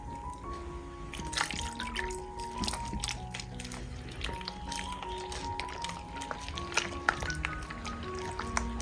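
Water poured into idli batter in a mixing vessel, with soft trickling, dripping and squishy stirring sounds running steadily throughout under faint background tones.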